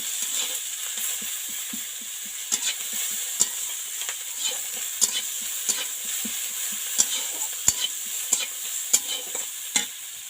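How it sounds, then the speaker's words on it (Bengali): Young green jackfruit fries in a pan with onion and green chilli, a low, constant sizzle broken by frequent light clicks and scrapes of a spatula stirring it, close and without talk. "দিয়ে সুন্দরভাবে লাল লাল করে ভেজে আদা রসুন দেবো।"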